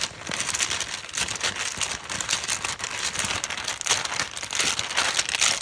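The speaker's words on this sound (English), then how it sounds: "This is how I shuffle tiles in my Moonlit Faye bag." Tarot tiles shuffled inside a Moonlit Faye bag give a continuous close rustle of fabric with small clicking tile contacts, steady and moderately loud throughout.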